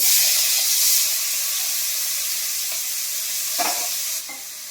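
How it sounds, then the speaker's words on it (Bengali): Prawns fry in hot oil in a wok, giving a loud steady sizzle and hiss that fades slightly toward the end, with a brief stirring clatter near the close. "কড়ার তেল গরম হয়ে গেছে চিংড়ি মাছটা দিয়ে দেবো"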